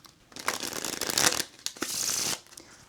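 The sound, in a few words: shuffling a deck of cards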